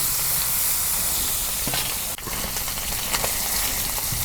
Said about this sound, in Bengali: মাছ একবারে দিয়ে দিলাম।